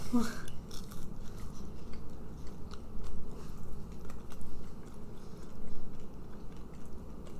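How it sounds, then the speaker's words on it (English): Someone bites into a Beyond Burger plant-based patty and chews it close to the microphone, with soft, wet, repeated mastication and crunchy squelches throughout, and faint voices murmuring in the background. "Chewing."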